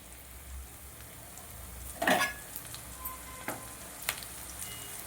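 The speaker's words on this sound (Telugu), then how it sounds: "ఇప్పుడు మనం పోపు వేసుకుందాం." Tempering spices hit hot oil for pudina fried rice with one loud sizzling burst, followed by scattered light crackles and pops over a quiet frying hiss.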